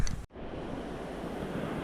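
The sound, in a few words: East Carson River water flowing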